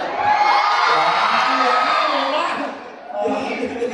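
A live audience at a comedy beatbox show cheers and shouts together, a loud sustained roar of whoops and yells with speech mixed in, dipping briefly before rising again.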